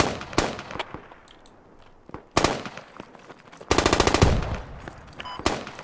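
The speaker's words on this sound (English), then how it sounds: "Shooting now. Stop shooting on the bunker." Video game gunfire in a tactical squad shooter: sharp isolated shots followed by rapid automatic bursts, loud and close, with quieter gaps between volleys.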